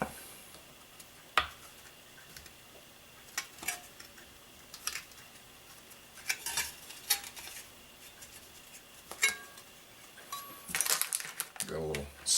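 Metal pieces of a small folding stove from a Lithuanian military ration clink and tap as they are assembled, giving sporadic light clicks and scrapes, with a louder rattle near the end.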